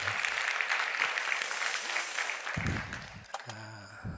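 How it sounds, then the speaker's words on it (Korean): A church congregation at a Wednesday worship service applauds, fairly quiet and diffuse clapping for a few seconds before it fades, followed by brief speech. "수고해 주셔서 고마운 마음을 담았으니 박수 한번 하시겠습니다."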